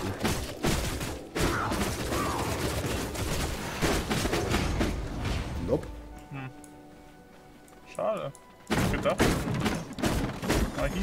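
A banger explodes in the video game V Rising, giving a series of sharp, booming blasts and crackling bursts mixed with game noise, while players talk over much of it.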